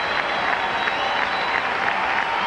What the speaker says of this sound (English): I think they'd be worn out from cheering today.